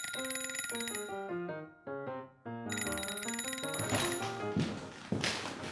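A melodic phone ringtone plays up close, a run of bright tonal notes stepping up and down before swelling into a fuller, busier jingle.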